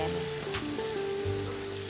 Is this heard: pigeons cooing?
no